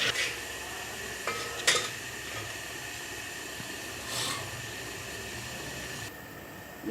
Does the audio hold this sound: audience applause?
no